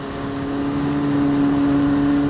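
Suzuki GSX1100E motorcycle engine pulling hard under acceleration, a loud, steady, close-up drone with a strong humming tone that holds throughout with no talk.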